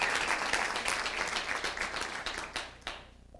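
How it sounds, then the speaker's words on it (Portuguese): An audience claps loudly and continuously at a live talk, a dense burst of applause that fades out near the end. "Então dá uma salva de palmas bem forte para aumentar essa energia aqui."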